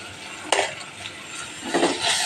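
Long beans and potato stir-fried with coriander powder, sugar and salt, heard as a single sharp stirring scrape, low sizzle and another clatter of the spoon against the pan near the end, with no talk.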